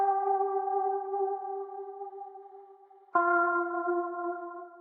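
Sustained, chord-like guitar tones ring out with a soft, washed reverb tail, then a new chord strikes and holds near the end.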